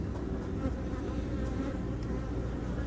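A honeybee fans its wings rapidly at a hive during a beekeeping lesson, giving a soft, continuous buzz that stays steady and fairly quiet with no talking.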